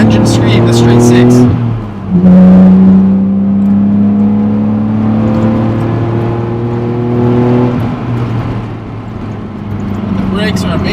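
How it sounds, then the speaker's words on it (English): A BMW Z4 M straight-six engine revs hard and high, a loud sustained mechanical scream climbing in pitch, briefly dipping around a gear change before rising again. "As we get into the upper rev range, you can really hear the engine scream, the straight six."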